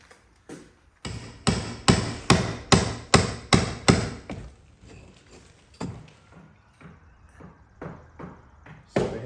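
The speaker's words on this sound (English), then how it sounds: "So all of this mortar has to be all chipped out" Sharp hammer blows chip out masonry mortar around a cut conduit pipe in a quick regular series of about eight hits, followed by lighter, more scattered taps and chipping.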